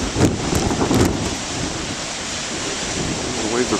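Big ocean waves surging at the shore with strong wind buffeting the microphone, a constant roar with gusty swells, and a voice speaking faintly underneath.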